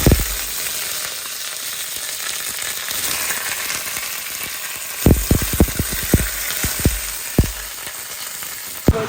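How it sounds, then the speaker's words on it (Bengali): Fish heads fry in a little oil, giving a constant hissing sizzle with a burst of sharp spattering pops midway, close and loud, with no voices. "অল্প একটু তেল দিয়েছি, মাছের মাথাগুলোকে ভাজবো।"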